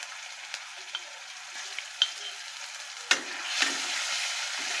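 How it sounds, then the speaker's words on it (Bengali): Onion paste and ginger-garlic paste fry in oil over browned onions for an egg bhuna, a steady close sizzle broken by occasional scraping and stirring knocks. "সবগুলো ভালো মতো ভেজে নিতে হবে যেন কাঁচা গন্ধটা না বের হয়।"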